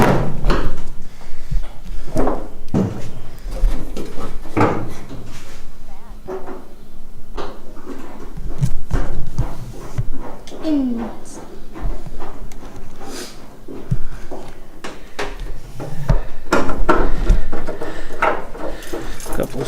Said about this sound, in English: So I'm gonna get this door mounted on the car real quick